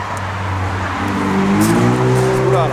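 A Ford Mustang accelerates past close by. The engine's roar rises loudly in pitch over a few seconds.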